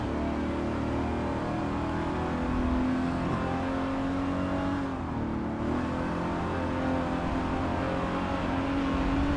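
Ford Mustang race cars in Forza 7, their engines droning steadily with shifting revs as the pack runs on, a continuous mid-level roar with no clear pass-bys.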